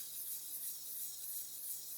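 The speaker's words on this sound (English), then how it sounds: "So if we just basically resting the sanding stick on the roof" A sanding stick rubs over the plastic roof of a poorly molded 1/12 Italeri Stratos model car body, giving a soft, continuous hissing scrape that is faint and close.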